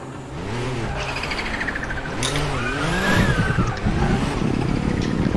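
Porsche 962 C Group C race car in a racing video game at the Nurburgring: loud, close engine revving with rising and falling pitch sweeps through gear changes, continuous with no talk.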